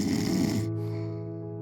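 A single deep, rasping snore from a sleeping person, loud and close, breaking off into a softer fading breath.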